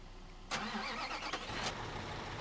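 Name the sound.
truck engine in the video game Bau Simulator 2015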